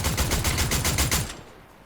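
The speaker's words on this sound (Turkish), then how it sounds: "Şuradan silah sesi geliyor." Rapid automatic gunfire in the Fortnite video game: a fast, even burst of shots, loud and close, that stops abruptly after about a second.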